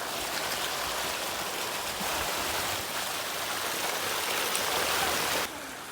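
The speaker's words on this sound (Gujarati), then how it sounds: "અમે મગમાં પાણી મૂકીએ છીએ" Irrigation water flows steadily into a mung bean field in a village, a continuous close rushing wash that holds even throughout and eases slightly at the very end.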